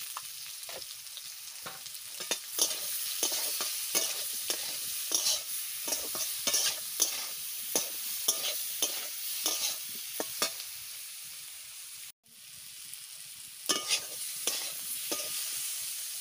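Chunks of elephant foot yam fry in hot oil with a continuous sizzle, while a spoon scrapes and stirs the pan in frequent rhythmic strokes, close and loud.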